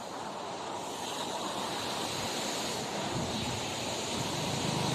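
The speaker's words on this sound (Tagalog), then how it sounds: "Labi na karon kay tingulan, so kusog yun ang tubig diri." Strong rushing river water in rainy season roars continuously, a dense steady wash with no pauses.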